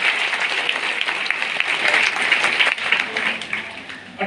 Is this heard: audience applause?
yes